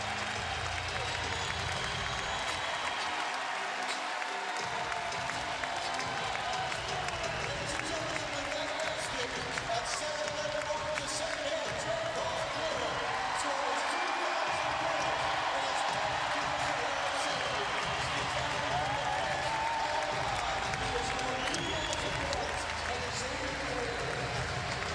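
A college basketball crowd at Xavier's home game against Marquette applauds and cheers a player's 2,000th career point, a sustained, broad roar of clapping that fills the arena while an announcer keeps talking over it.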